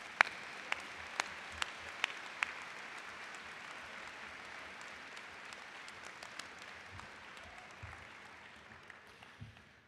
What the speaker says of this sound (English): they deserve one last round of applause from the class of 2024 and their families